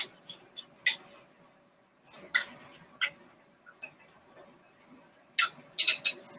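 A spoon clinks against a bowl while hot melted butter and Parmesan are stirred together for air-fryer garlic Parmesan chicken wings; sharp, scattered clinks come in short bursts between quiet pauses, with no talking.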